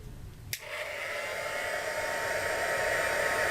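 A hair dryer aimed at sprayed background paper clicks on and then blows a steady, loud, close whooshing whine that holds without a break.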